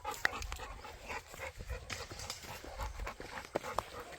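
Several farm dogs bark and yelp in scattered bursts at a moderate distance, with intermittent thuds and movement sounds around them and no clear speech.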